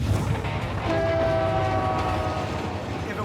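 Freight train on a remote northern line serving a snowmobile-access camp, passing close with a steady loud rumble and a long horn-like tone sustained through the middle, no talk.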